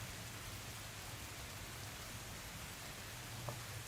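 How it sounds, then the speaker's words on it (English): Steady rain pours down in a wide, even wash of noise, heard alone and from a distance with no break or shift across the whole span, apart from one tiny sharp tick near the end. "As the rain continues pouring."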